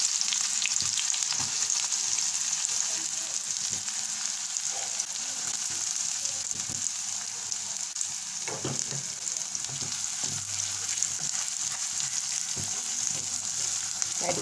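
Onions frying in oil in a karahi for dhaba-style chicken karahi, a steady bright sizzle running throughout with occasional soft stirring knocks and scrapes, close and moderately loud, with no talking.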